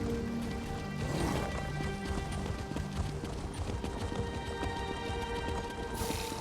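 Horse hooves clip-clopping at a stable in the video game Elder Scrolls Online, a steady, quiet rhythm of hoof steps over a soft ambient bed, with no talking.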